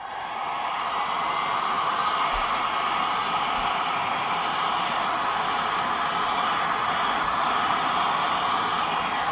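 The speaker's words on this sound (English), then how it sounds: "I'll just probably use the heat gun first" A heat gun blows steadily over poured resin to create a domed finish on a resin art piece with 3D wildflowers and butterflies, giving a continuous, close, even airy roar throughout.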